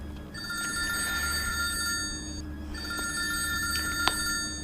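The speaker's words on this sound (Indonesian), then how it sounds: "kedengeran bunyi telepon umum" A public payphone rings at a bus stop with a grey metal bench, its steady electronic ring repeating over busy background street hum, moderately loud and close.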